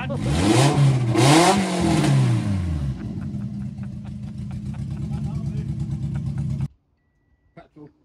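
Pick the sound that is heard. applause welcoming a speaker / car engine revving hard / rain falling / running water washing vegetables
car engine revving hard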